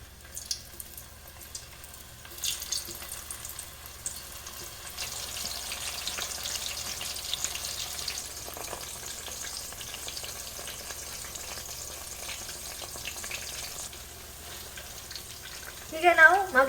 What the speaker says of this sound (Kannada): ಮ್ಯಾರಿನೇಟ್ ಮಾಡಿಟ್ಟಂತಹ ಸೋಯಾ ಚಂಕ್ಸ್ ಅನ್ನು ಫ್ರೈ ಮಾಡಿ ತೆಗೆಯುವ.